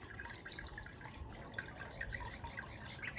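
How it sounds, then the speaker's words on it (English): Water draining through a paper-making screen after lifting it from paper pulp, a faint, steady trickle with soft irregular drips, close and quiet with no talking. "And the water, as you can hear, is coming through the screen."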